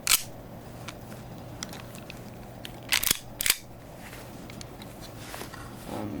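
A WE 1911 airsoft pistol fires two sharp, close snaps about half a second apart over a quiet background hum, with a fainter click near the start.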